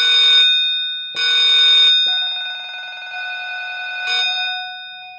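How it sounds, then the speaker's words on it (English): A synth bell built with Logic's Note Repeater rings like a school bell, bright sustained metallic tones in several bursts, with a rapid trilling repeat in the middle, loud and alone. "And it rings like a school bell."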